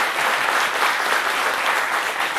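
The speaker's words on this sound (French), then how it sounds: "Merci de l'applaudir très très fort" A studio audience at a televised show claps loudly and steadily, a dense wash of applause that fills the whole stretch without pause.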